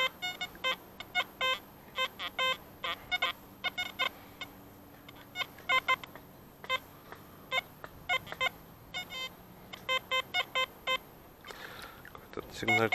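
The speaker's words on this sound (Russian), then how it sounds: "Все железом пищит." An XP ORX metal detector sweeps a beach littered with iron junk, giving rapid bursts of repeated high electronic beeps that come and go in clusters, with faint background noise between them.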